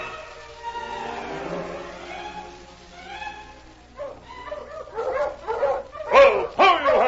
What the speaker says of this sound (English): Oh, ho, you huskies! Listen, that sounds like King now